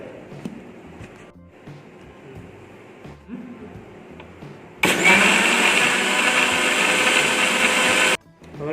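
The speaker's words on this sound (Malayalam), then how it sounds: "നമുക്കിതൊന്ന് മിക്സിയിട്ട് അരച്ചെടുക്കാം." An electric mixer grinder blends ripe bananas, sugar and water into a milkshake, starting abruptly with a loud whirring roar that runs for about three seconds and then cuts off, after some quiet kitchen clatter.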